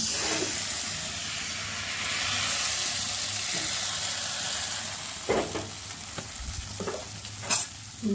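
Ragi millet flour roasts in a hot iron wok with a steady close sizzle, broken later by several scraping stirs.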